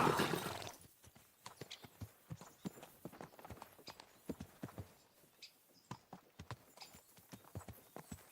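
Horse hooves clip-clop in the video game Kingdom Come: Deliverance 2, a steady, uneven rhythm of sharp hits, moderately near, with a brief louder burst at the start.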